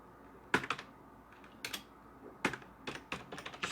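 Keys clatter on a computer keyboard in short bursts, close and fairly quiet, with brief pauses between clusters of keystrokes at a desk.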